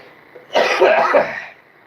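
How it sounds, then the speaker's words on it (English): A single harsh, close cough with a throat-clearing quality bursts out for about a second, loud against a quiet room, then fades. "getting coughs all the bloody time"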